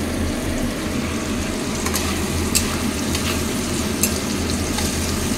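Paneer sizzles steadily in hot oil in a wok, a dense continuous frying hiss with a few brief spatter pops over a low background hum.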